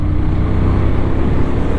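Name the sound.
motorcycle engine while riding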